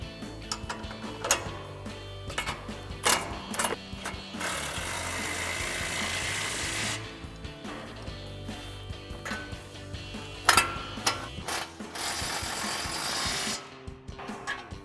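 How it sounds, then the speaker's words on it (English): Rapid clicking of a ratchet wrench and socket tightening front suspension bolts on a Ford F-150 strut install, close, in repeated bursts of ticking with short pauses between runs. "we'll grab our 18mm wrench and 19mm socket to tighten these down"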